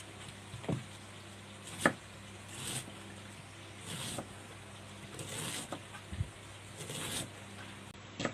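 A knife chops beans on a cutting board in a home kitchen, giving sparse, irregular knocks spread across the stretch, fairly close and moderately loud over a steady low background hum.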